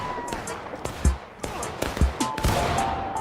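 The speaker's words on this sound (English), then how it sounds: "Shoot him." Gunshots in the video game Final Fantasy XIV: several sharp impulsive cracks with low thumps at irregular intervals, layered over busy game sound and background voices.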